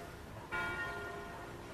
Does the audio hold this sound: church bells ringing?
yes